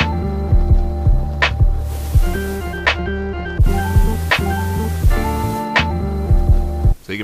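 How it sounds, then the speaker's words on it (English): A lofi cassette-tape plugin processes a music loop: a repeating beat with kicks and sustained chords, overlaid by a noisy tape texture, looping steadily at full volume. "So you can make it really noisy with the tape."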